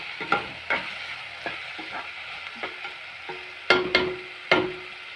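Masala for an egg thokku fries in oil with a soft sizzle, broken by sharp, irregular scrapes and taps as a spoon stirs through the pan. Several louder clanks come near the end.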